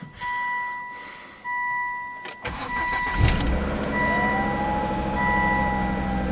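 A Volvo car engine with a grenaded, damaged engine cranks, catches and settles into a steady running idle, loud and close, after a few electronic chimes.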